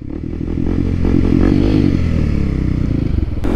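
A Kawasaki KLX300 motorcycle is ridden at a steady cruise, its single-cylinder engine a loud, continuous close-up drone with rough rumble and wind buffeting.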